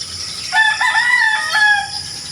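Roosters crow across a quiet, drizzly morning on a rural property, two long clear calls in succession with birds faintly in the background, no talking.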